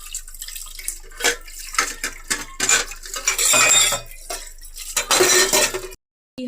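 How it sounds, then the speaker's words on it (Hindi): Dishes washed in a kitchen sink, with clinking cutlery and pots knocking in irregular bursts over running tap water, close and moderately loud, with no talk. "पहले हम ये बर्तन धो लेते हैं"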